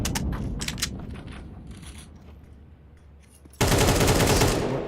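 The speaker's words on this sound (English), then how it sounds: "Shots are coming through hard." Pistol gunfire in a competitive Counter-Strike match: a rapid cluster of sharp shots at the start fading into quieter ambient game noise, then a sudden sustained loud burst of noise near the end.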